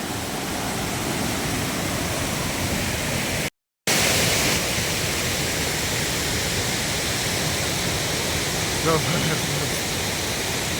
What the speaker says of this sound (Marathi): हा तो दुसरा धबधबा जो समोर पडतोय